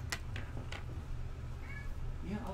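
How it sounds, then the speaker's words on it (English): A house cat meows faintly a few times, with short, thin cries scattered over a low background hum, heard during an online role-playing game session. "let me put my cat in the room so my cat will be quiet"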